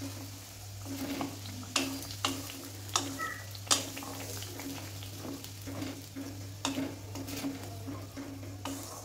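Spice paste in oil for an aloo capsicum paneer dish: a soft, low sizzle under repeated sharp clinks and scrapes of a spatula against the pan, close by, with no talking.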